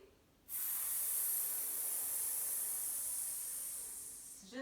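A slow exhalation during a yoga breathing exercise makes a steady, close breathy hiss that starts abruptly and holds for about four seconds before fading slightly, with no talking.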